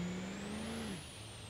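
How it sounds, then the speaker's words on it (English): Turbo whine of a Chevrolet Silverado truck in BeamNG Drive, a loud high whistle rising in pitch then holding steady over a low engine drone that drops away. "This Silverado got a loud turbo."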